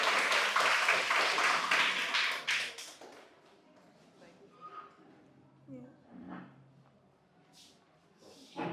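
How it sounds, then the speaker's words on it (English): Audience applause at a primary school debate semi-final in Grenada, a dense burst of clapping for about three seconds that then fades out, leaving quiet hall noise and scattered faint sounds. "Let's give her a round of applause."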